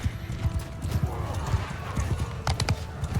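Cavalry horses in the Mount & Blade II Bannerlord video game gallop with rapid, rhythmic hoofbeats that stay steady and fairly close throughout, with faint battle ambience behind them.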